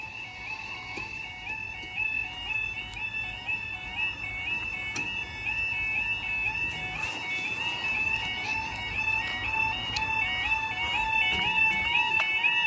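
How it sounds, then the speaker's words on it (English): The alarm at the Noose Lane railway level crossing rings continuously, a steady two-tone electronic warble repeating without pause over a low outdoor hum, clear and moderately loud throughout with no voices. "You can actually only hear the one alarm"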